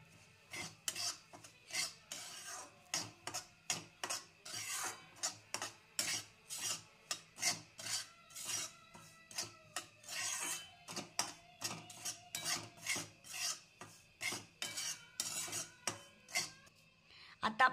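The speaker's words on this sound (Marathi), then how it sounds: "आता कढईमध्ये 1 वाटी रवा टाकून त्याला चांगलं भाजून घ्यायचं" A spoon scrapes and stirs one bowl of semolina (rava) being roasted in a kadhai for sheera, giving a quiet, regular rasping scrape repeated about every half second, close and without talk.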